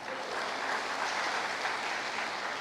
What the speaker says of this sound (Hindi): चलो भाई लोग ताली बजा दो।